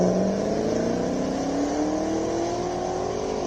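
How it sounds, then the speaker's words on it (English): A Corvette sports car idles forward toward a hillclimb start line, its engine note rising gradually as it moves, close and loud with a steady low rumble and no talk. "we see a Corvette making its way to the start line"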